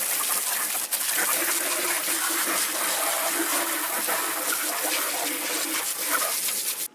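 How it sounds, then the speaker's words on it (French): A water jet rinses a Dreame A3 AWD Pro robot lawn mower outdoors, a loud, steady hiss of spraying and splashing water lasting throughout, with faint bird calls in the background. "Au niveau de l'entretien, un jet d'eau, pas de nettoyeur haute pression."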